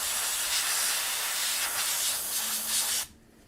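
A spray can hisses in a long continuous burst while priming miniatures held in the air, loud and close, then cuts off abruptly into quiet.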